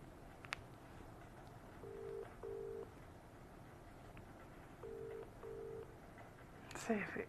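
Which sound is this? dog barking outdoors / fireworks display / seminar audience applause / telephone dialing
telephone dialing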